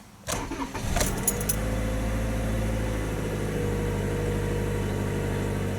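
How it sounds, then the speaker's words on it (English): A 2019 Toyota RAV4 LE cranks with a few quick clicks and a short starter whir, then catches and settles into a smooth, steady idle hum close by, with no talking. "So start it up here."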